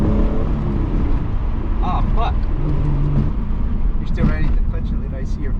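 Steady engine and road drone from inside a third-generation Mitsubishi Eclipse on a test drive, continuous and fairly loud, with people talking over it.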